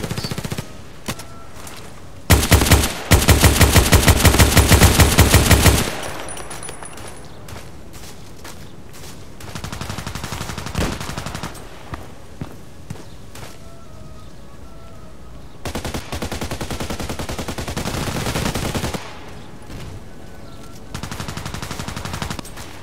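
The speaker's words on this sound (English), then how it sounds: "He turned and shot me immediately." Rapid automatic gunfire from the online shooter Contract Wars crackles loudly in a few sustained bursts. Quieter stretches between them carry fainter shots and game ambience.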